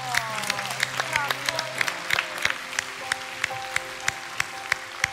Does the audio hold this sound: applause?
yes